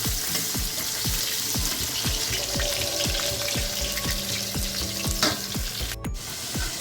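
Potatoes deep frying in hot oil, a dense, steady crackling sizzle that runs throughout, close and fairly loud, with a brief clink near the end and no talking.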